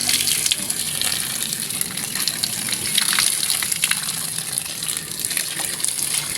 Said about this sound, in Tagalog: unang bomba pa lang ay lumabas na po yung tubig niya.